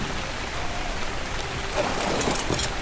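Steady rain falling in a dinosaur-breeding video game, a dense even hiss of drops with a few brighter patters late on, heard alone with no talking.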